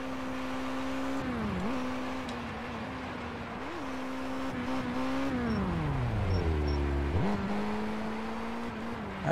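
A Honda Hornet motorcycle in the MX Bikes racing game, its engine droning steadily and shifting pitch through gear changes, with a deep drop and recovery near the end, no talk over it.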